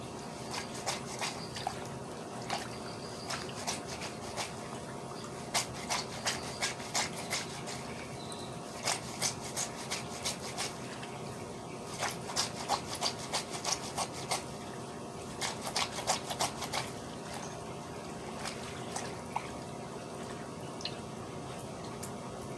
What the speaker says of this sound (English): Now I am done rubbing it together and making the shampoo.